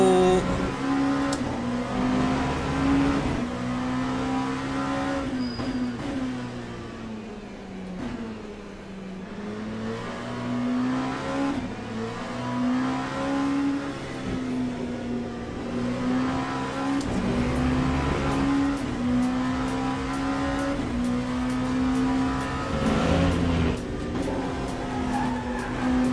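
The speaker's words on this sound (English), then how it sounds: "I like how these cars sound." Race car engines in the racing video game Le Mans Ultimate roar continuously, rising and falling in pitch as they rev and shift, with occasional tire squeals.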